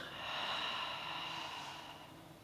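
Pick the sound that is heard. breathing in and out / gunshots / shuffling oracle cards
breathing in and out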